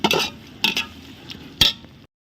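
Chicken biryani stirred in a pot over a wood fire, three scraping, clattering strokes of a spoon against the metal pot with soft bubbling between them, close and alone.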